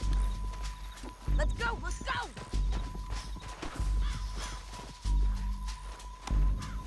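Horse hooves clip-clopping in Red Dead Redemption 2, a steady beat running under loud shouted dialogue and urgent game chatter, with brief bursts of heavier action noise.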